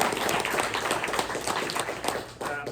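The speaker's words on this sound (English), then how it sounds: "let's give him a round of applause." Applause from an audience at a press luncheon, a dense, steady patter of many hands clapping close by for a few seconds.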